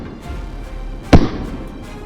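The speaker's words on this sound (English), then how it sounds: "a furious round of gunfire erupted, relentlessly pursuing each one" One sharp, loud gunshot cracks out during a shoot at a herd of wild boars, a single brief bang over a low, rumbling background.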